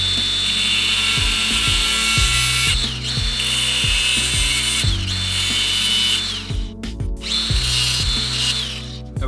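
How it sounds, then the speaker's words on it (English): Power tool cutting a Bosch VE injection pump governor part to length: a loud, close, whining grind broken by repeated short stops and restarts in an uneven rhythm. "I'm gonna cut this to the correct length"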